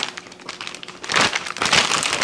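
Crinkly plastic bag rustling close up as a beef eye round roast is put inside, quieter at first and then louder bursts of crackling handling.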